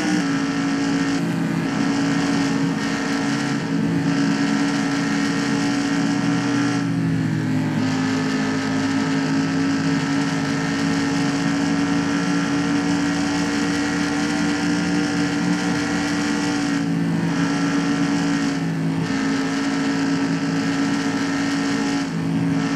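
Steady, droning roar of stock car engines in the NASCAR Racing 2003 video game during a simulated QuikTrip 500 race, loud and continuous with a sustained engine tone and slight shifts in pitch as the cars run through the corners.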